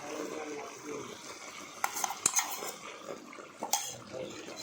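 Spoon stirring fresh cream into bottle gourd halwa in a pan, soft wet scraping with a few sharp metallic taps against the pan, close and fairly quiet.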